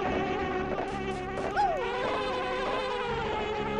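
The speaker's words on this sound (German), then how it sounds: "die tun mir auf jeden Fall nichts, die Bienen" Bees buzzing in the Banjo-Kazooie video game, a steady insect drone sitting within busy game music and effects for the whole stretch, with a brief louder swoosh midway.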